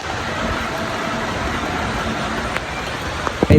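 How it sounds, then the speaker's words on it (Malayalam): Heavy rain falls steadily as a dense, continuous wash of noise outdoors beside a house, with a few sharp louder cracks near the end that may be nearby thunder or knocks. "നല്ലോണം മഴ പെയ്യുന്നുണ്ട്, ഇടിയെടുക്കുന്നുണ്ട്"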